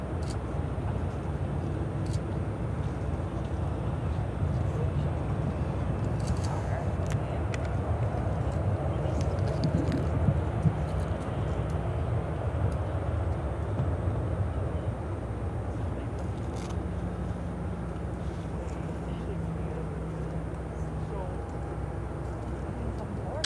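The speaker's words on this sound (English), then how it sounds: "Got that Korean Air Cargo Queen also heading to 28" Distant jet rumble from a Korean Air Cargo Boeing 747 freighter heading for runway 28 at Chicago O'Hare, a steady broadband roar that holds for the whole stretch with faint background noise.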